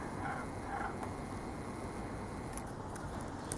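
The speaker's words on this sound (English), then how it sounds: "Ayan, ang Kookaburra." A kookaburra calls in an Australian backyard garden, with a couple of faint cackling bursts early on. They sit in a steady wash of outdoor background noise.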